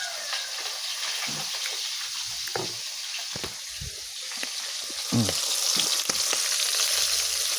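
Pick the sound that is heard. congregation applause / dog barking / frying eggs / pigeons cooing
frying eggs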